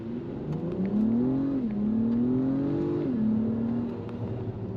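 A 2024 Acura TLX Type S with a 3-liter turbocharged V6 revs and pulls steadily under acceleration, a smooth droning tone rising and shifting up through gears, heard from inside the cabin.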